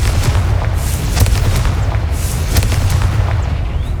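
In the Hogwarts Legacy video game, a Confringo spell explosion booms loudly, followed by a continuous rumbling roar with repeated sharp cracks. No voice is heard.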